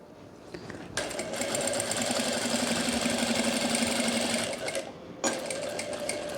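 A sewing machine stitches piping onto a kurti, running in a steady, fast mechanical whir for several seconds, then pausing briefly and starting again, close and clear.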